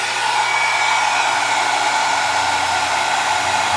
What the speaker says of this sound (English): But now we're going to heat set it.